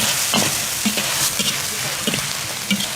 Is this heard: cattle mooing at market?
no